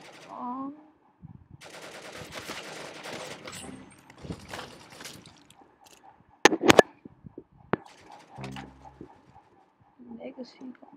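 Gunfire from a weapon in a video game: short sharp bursts of shots and a few single reports, loud and close, set among music and game effects.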